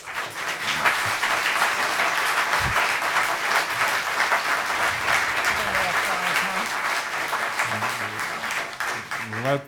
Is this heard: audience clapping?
yes